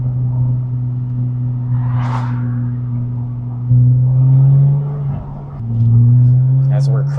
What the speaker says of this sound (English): Let me roll down the window and see if you guys could hear the exhaust a little bit.